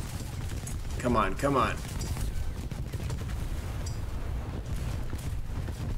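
An anti-aircraft gun fires in a video game battle against biplanes, as rapid, dense bursts of gunfire crackle steadily through the whole stretch, with a brief spoken voice on top.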